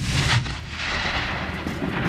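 A grenade blast during US Marines training rolls out as one loud, deep boom that rumbles on for a couple of seconds, heard from a distance.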